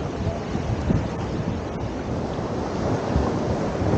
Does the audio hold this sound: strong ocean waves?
yes